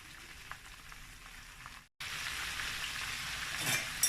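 Pieces of chicken frying in hot oil in a fry pan give a steady, broad sizzling crackle that cuts out briefly for a moment, then returns louder and fuller when more pieces go in.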